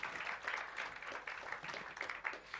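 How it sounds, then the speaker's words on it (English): Audience applause at the launch of a radio station's new broadcasting studios, a faint, steady patter of many hands clapping at a distance, sustained throughout without a clear break. "Let's give them one more big round of applause."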